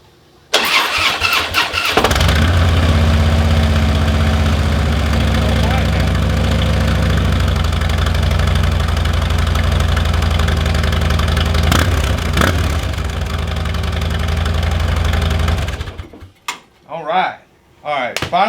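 A Harley-Davidson motorcycle engine freshly repaired after a head gasket job starts up and runs with a loud, steady low rumble for about fourteen seconds, then cuts off, followed by brief talking.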